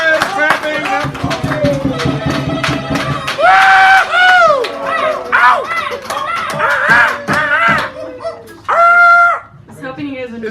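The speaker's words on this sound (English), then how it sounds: "Animal noises, clapping." An audience at a poetry reading in a San Francisco café bursts into clapping mixed with loud whoops, yelps and animal-like hoots and cries from many voices, coming in repeated surges.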